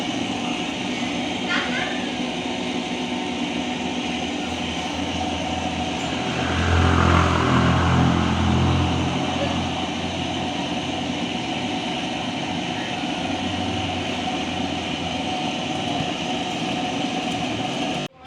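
A spinner machine spins leftover oil out of tilapia fish floss, giving a loud, steady motor drone that swells for a few seconds midway before settling back and cutting off at the end.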